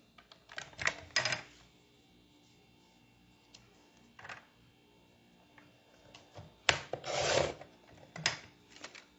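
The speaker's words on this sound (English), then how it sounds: "Then I'm going to use my trimmer for part of this." Paper trimmer slicing through paper, a few short, close rasping swipes in separate bursts with quiet gaps between them, no talking.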